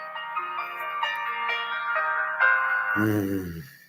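A mobile phone ringtone plays a steady, bright melodic tune throughout, loud and close, ending with a brief lower tone near the end.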